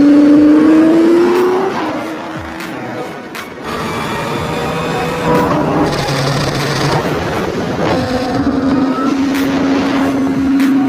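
A twin-turbo Mustang-based supercar with little sound deadening roars loudly, its engine note rising and falling through several revs, sliding pitch sweeps and a brief lull before climbing again, with no talk over it.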